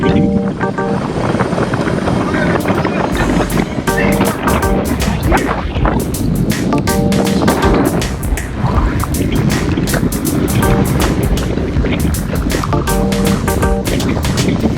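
Wind roars steadily and loudly across the microphone during a group road bike ride, a constant close buffeting rush that lasts the whole stretch with no break.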